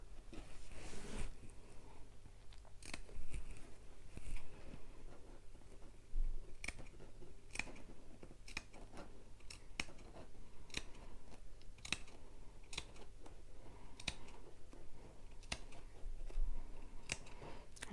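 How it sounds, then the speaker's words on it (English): Scissors snip into a fabric seam allowance around a long, deep curve on a sewing project, a series of sharp, close clicks and cuts repeating at irregular intervals with no talking. "I'm going to snip into my seam allowance again"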